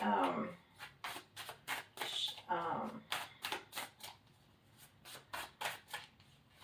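A brand-new tarot deck is shuffled by hand close by, with a quick run of crisp riffles and snaps at an uneven rhythm. Soft talk can be heard in the background.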